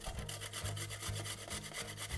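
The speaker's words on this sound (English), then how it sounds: "Now we're going to grate the cucumber into a bowl." Cucumber rubbed against a grater into a bowl, a steady rasping scrape repeated in rhythmic strokes, close and continuous.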